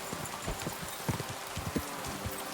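Horse hooves galloping in Kingdom Come: Deliverance II, a steady run of clip-clop hoofbeats over a soft ambient wash, moderately close and without talking.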